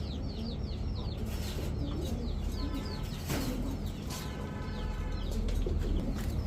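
Pigeons at a pigeon sale, including large red-geared white birds, heard as a busy mix of soft coos and scattered bird calls over a steady crowded background murmur, with no clear talk.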